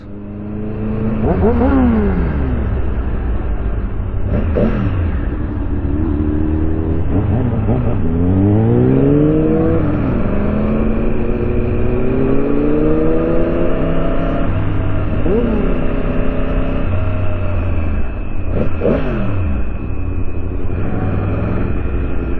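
A Chevrolet Corvette C8 at a car show revs its engine loudly and steadily for over twenty seconds, with rising and falling pitch sweeps as the throttle is blipped repeatedly, while people talk nearby.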